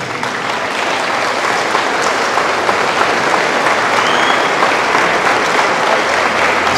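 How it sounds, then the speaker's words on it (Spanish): A church congregation breaks into loud, sustained applause, a dense, even wash of many people clapping that holds steady throughout without any talking over it. "Señor Dios, estos aplausos para ti"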